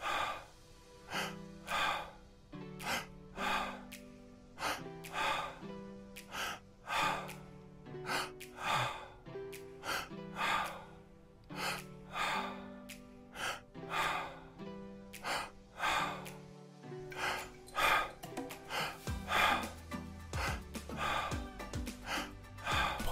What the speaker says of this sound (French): On remplit son ventre d'air et on expire.